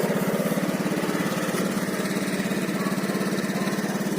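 A Yamaha Gear fuel-injected scooter engine runs steadily, a close, even, pulsing putter with a slight rattle, heard alone without any talking.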